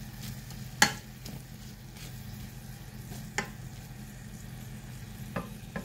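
Hot dogs frying in a pan for a beef dinner dish, giving a steady low sizzle with faint stirring clatters and a few sharp utensil clicks, close and without talk.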